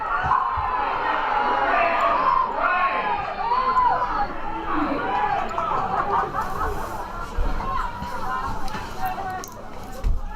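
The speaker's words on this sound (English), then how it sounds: "Crowd erupts as they believe a foul was" Spectators at a women's premiership football match between West Coast Rangers and Auckland United raise a swelling mix of shouts, chatter and excited voices that surges and ebbs across the stands.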